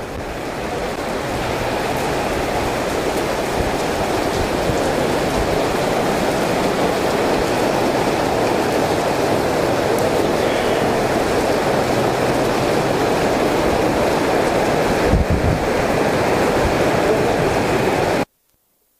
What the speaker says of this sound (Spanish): Nos vino fuerte la lluvia.